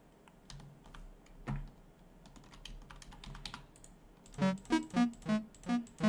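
Keyboard keys and mouse buttons are clicked repeatedly during a button-clicking game session: scattered sparse taps at first, then a run of louder, rhythmic clicks in quick succession.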